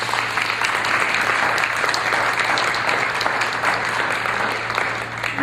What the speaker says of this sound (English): with a collective round of applause, just thank all the people in this room who helped pull this colloquium together